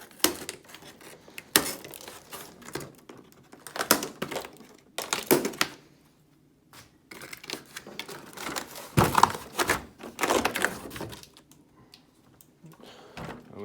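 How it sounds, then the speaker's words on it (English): Scissors snip through zip ties holding a 1/10 scale Element RC Enduro trail truck in its packaging, a series of sharp clicks and crinkly plastic rustles in irregular bursts, close and fairly quiet. "Go ahead and cut the ties."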